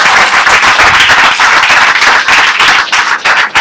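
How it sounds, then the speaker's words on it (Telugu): An audience at a pharmacy academy's golden jubilee celebration claps loudly and densely for the head of department. The applause is close and sustained, with no speech over it. "Please give a big clap to her."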